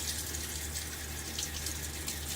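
Tap water runs steadily into a sink during a wet shave, a continuous bright splashing hiss that stays close and even from start to finish with no talking.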